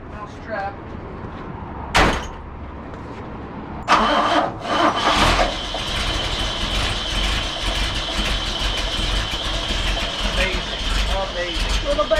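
A truck engine cranks and fires up after sitting in winter storage, with a door thud first, then a loud start that settles into a steady idle.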